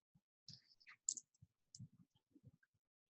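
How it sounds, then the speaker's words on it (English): A delete key on a computer keyboard is tapped, making faint, sparse clicks in near-silence. "look at your keyboard and tap delete"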